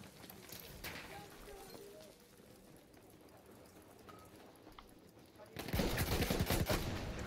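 Gunfire in the Battlefield 1 video game, with sporadic shots over a busy battlefield din that turns into a loud, dense burst of rapid fire near the end.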